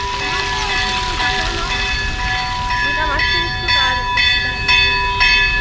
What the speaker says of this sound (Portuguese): Olha só, sino da igreja tocando nesse momento.